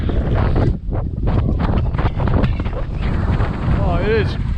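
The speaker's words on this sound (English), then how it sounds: "Oh, it is quite windy here." Strong wind buffets a hiker's microphone on an exposed rock outcrop along the Pinnacle Rock Trail in Wyoming County. It is a loud, continuous rushing roar with gusty swells throughout.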